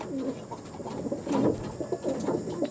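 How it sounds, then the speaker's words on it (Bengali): Pigeons coo nearby in soft, repeated throaty bursts, a few calls overlapping in a quiet setting with faint background hum. "এগুলো কিন্তু বন্ধুরা নতুন পায়রা"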